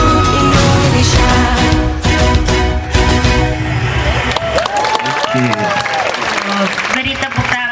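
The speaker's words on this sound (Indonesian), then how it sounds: "Beri tepuk tangan yang meriah untuk teman-teman kita ya." An audience at a school Pancasila student project showcase claps loudly and steadily after a dance performance, with music ringing under it and a presenter speaking over the applause.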